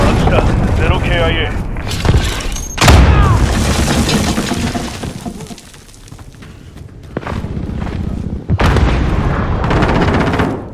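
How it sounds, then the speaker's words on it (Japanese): A cruise missile strike in Call of Duty: Modern Warfare lands as a loud boom that rumbles on, followed by further blasts and gunfire, with radio-style voices talking between the impacts. "こちらジャガーキー、巡航ミサイル発射。"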